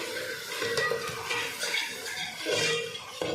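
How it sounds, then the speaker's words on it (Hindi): Whole spices such as cumin and garam masala being fried and stirred in a pan for degi-style mutton karahi, giving a steady close sizzle with scraping stir strokes and light clinks of utensil on metal. "अब ऐसे अच्छी तरह अपनी तरफ भूनना है थोड़ा सा मसालों को।"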